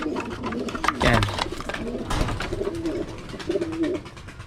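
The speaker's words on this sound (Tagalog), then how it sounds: "Mukhang nagronda yung kalapati natin." A domestic pigeon flying close by, with flapping wingbeat bursts and soft cooing over a steady background hum.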